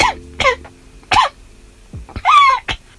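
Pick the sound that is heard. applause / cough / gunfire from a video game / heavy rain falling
cough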